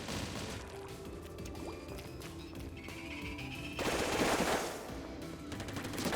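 Special bombs explode in the Splatoon video game, giving a dense, continuous stream of splattering, crackling blasts with a louder, splashy surge partway through, and no talk over it.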